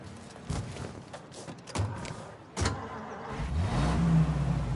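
Car pulling away on a street, with a few soft thumps and rattles before the engine rises into a steady accelerating hum near the end.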